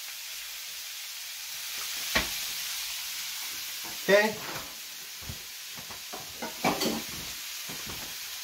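Onions hit hot oil in a pan and sizzle steadily, with stirring clatter and a few sharp scrapes over the constant fry; a voice speaks briefly.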